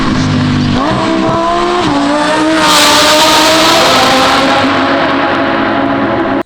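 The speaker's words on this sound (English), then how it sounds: "listen to the downshifts, guys. It sounds like" A Lamborghini Huracan Evo with an aftermarket exhaust, loud and close, its engine note dropping through rapid downshifts with stepped pitch falls and a rising roar that ends abruptly.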